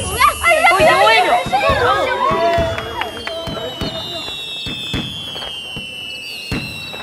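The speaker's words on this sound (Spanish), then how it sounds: "¡Miren, fuegos artificiales!" Fireworks burst in a string of sharp, regularly spaced pops, with whistling rising trails early on, over an excited crowd babble.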